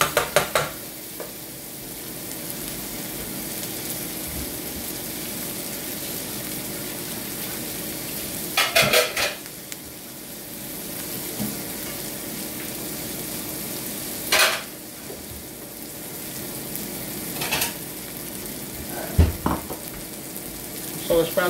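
Onion sautéing in a pan for a sauce, a steady close sizzle running throughout, broken by occasional sharper scrapes and stirring clatters of a utensil against the pan.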